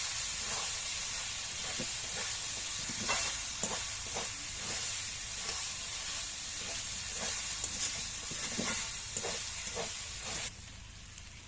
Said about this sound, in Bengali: এবার ভিজিয়ে রাখা চিড়েটা ঢেলে দেব তেলের পরে।